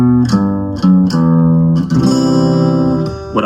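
A guitar plays the closing bass-line riff from a song: a few plucked low notes, then a sustained strummed chord that rings out, close and clear.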